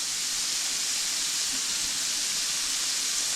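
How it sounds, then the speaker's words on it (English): Food fries and sautés in a fry pan with garlic, giving a steady, even sizzling hiss that continues unbroken throughout. "we're in the process of frying and sauteing"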